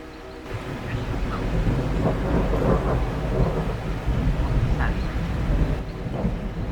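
Thunder from a lightning storm rolls in a loud, continuous rumble, mixed with the hiss of rain and wind buffeting the microphone, with no talking.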